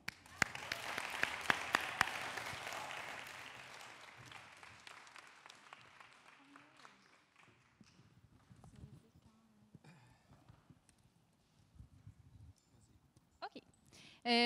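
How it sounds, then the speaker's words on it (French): Applause from an audience at a cultural networking event, strongest over the first few seconds, then thinning into scattered claps and faint room noise with some sharp knocks near the end. "La scène est à vous sous nos applaudissements."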